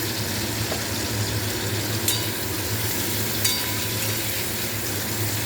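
Large-cut onions frying in a pan with black cumin seed for a Bengali vegetable chorchori, a steady close hiss of sizzling oil with a couple of faint clinks, no talk.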